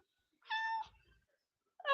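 A cat gives one clear, close meow, followed by a short quiet gap and the start of another meow at the end.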